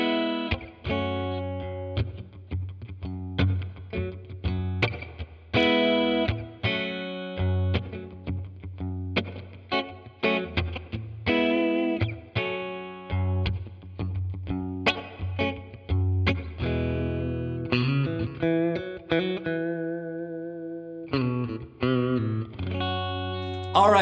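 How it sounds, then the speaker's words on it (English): Clean electric guitar from a Fano JM6 played through a Two-Rock Burnside amp with the bright switch on and Strymon Flint reverb, strummed chords and picked notes ringing steadily and fairly loud for about twenty seconds. "I have this Fano JM6 running into the Burnside."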